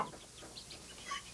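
A hen clucks softly in a few short, faint calls, spaced unevenly and heard alone without talk.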